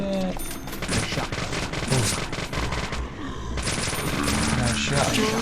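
Rapid gunfire bursts from the video game Deadly Premonition, loud and sustained in dense volleys with brief gaps, a voice talking faintly underneath.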